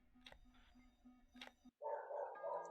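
In a Five Nights at Freddy's fan game, a dog barks twice, faint and hollow over a steady electronic pulse, then a louder buzzing game noise cuts in.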